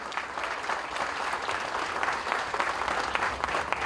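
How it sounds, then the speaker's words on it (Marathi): Steady, dense applause from an audience thanking a police inspector bandmaster at a Mumbai Police music event, continuous and even throughout with no voices above it. "जोरदार टाळ्या वाजवायच्या आहेत"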